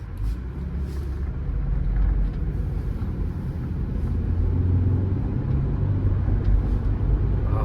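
A Subaru Outback engine and transmission hum in a steady low rumble while driving, smooth and continuous throughout with no voices.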